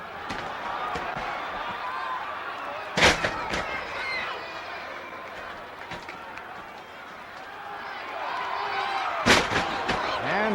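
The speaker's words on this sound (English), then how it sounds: "And they take turns at body slams." Two heavy, booming body slams land in a professional wrestling ring during an NWA World Title match between Buddy Rogers and Killer Kowalski in Chicago, several seconds apart, under steady commentary and crowd noise.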